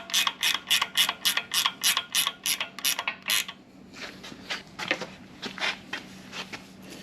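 A hand tool is ratcheted tight while camming an LS engine, about a dozen quick, evenly spaced ratcheting clicks up close, followed by slower, scattered clicks and metallic creaks.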